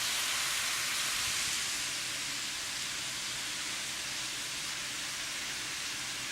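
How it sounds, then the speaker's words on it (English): Mushrooms frying in a home kitchen frying pan, a steady dense sizzle like fine hiss that holds even and fairly loud throughout, with no talk over it. "So now I'll place my mushrooms in my frying pan."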